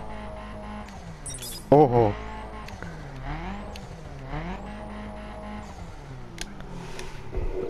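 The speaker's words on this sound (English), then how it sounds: "Hear that turbo?" A revving turbocharged Mini Cooper engine in the video game The Crew rises and falls through gear changes, with a brief squeal and a short exclamation from a voice.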